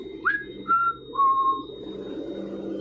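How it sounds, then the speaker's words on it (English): Someone whistles a short tune of three distinct notes, the first rising, the next two held longer, clear and fairly close, then stops leaving a quiet low background hum. "and the figure begins to whistle"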